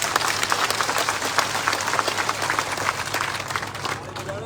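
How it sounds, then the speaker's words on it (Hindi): Political rally crowd claps loudly and continuously for a state legislator, dense applause with scattered individual claps, some voices mixed in, tapering slightly near the end. "जोरदार तालियां दोनों तरफ से।"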